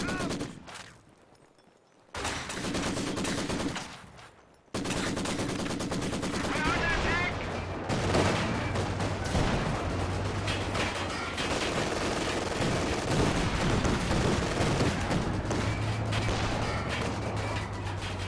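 Sustained automatic gunfire from a Vickers machine gun in the strategy game Company of Heroes 2, with bursts and artillery-like booms filling a busy battle soundscape, broken by brief quiet gaps early on.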